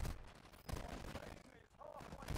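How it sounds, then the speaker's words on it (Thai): Rapid shotgun fire in the mobile battle royale shooter Warzone Mobile, with several loud booming blasts in quick succession, dense and close, filling the short moment. "ลูกซอง"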